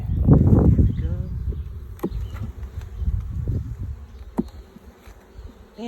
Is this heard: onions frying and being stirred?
no